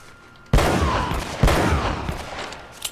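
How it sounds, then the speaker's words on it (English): Gunfire in Uncharted: Drake's Fortune Remastered during a monastery level: two loud, sharp shots about a second apart, each followed by a ringing, reverberant tail, with smaller pops near the end. "One shot, one kill."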